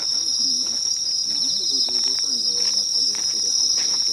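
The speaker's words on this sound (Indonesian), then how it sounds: "Lihat bro, jangkrik bro, jangkrik selibur wadon." Crickets chirp at night beside a road in a Japanese village, keeping up a steady, shrill, continuous trill close by while someone talks quietly underneath.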